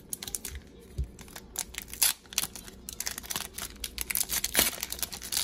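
A foil soccer trading card pack is torn open up close, with a run of sharp crinkling, rustling and tearing bursts at an irregular pace.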